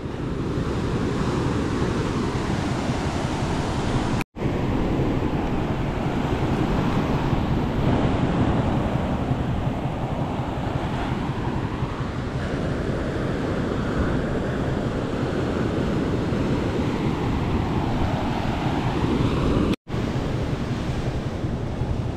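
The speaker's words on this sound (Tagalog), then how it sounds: "Lumalayo na ulit ang dagat." Sea waves heard from aboard a small boat, a loud, continuous wash and roar of surf with heavy wind buffeting the microphone, surging and receding in slow swells.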